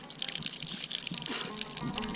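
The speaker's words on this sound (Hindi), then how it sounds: "पानी आ रहा है, एक और भी है।" Cold water gushes steadily from a tap at a railway station, a continuous broadband splash close by with slight fluctuations and no talk over it.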